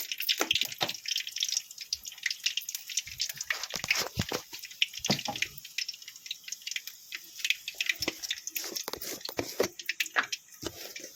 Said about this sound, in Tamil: வெந்தயம் போட்டுக்கலாம்